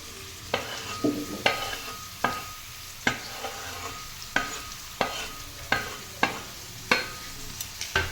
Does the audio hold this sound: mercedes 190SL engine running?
no